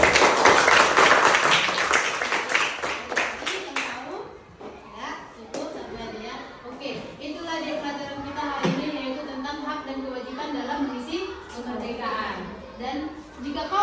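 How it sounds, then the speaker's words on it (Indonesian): A classroom full of children claps for a classmate in a dense, loud burst lasting about four seconds, then fades into a murmur of kids' voices and chatter. "Tepuk tangan untuk kawannya"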